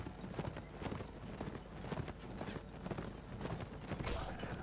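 Horse hooves in the video game The Last Days of the Third Age, a mounted Rohan rider's rapid continuous clip-clop galloping across the ground, with a faint whinny and soft crowd-like battle noise underneath.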